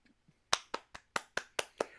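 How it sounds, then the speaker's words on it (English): Handful of single hand claps from one person, eight sharp, evenly spaced claps in quick succession, dry and fairly quiet, following a few faint taps. "round of applause."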